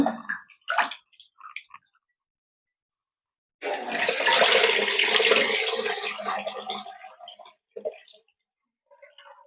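Water running loudly for a few seconds as rice is rinsed, preceded and followed by brief splashes, clicks and handling noises, with a voice speaking faintly in between.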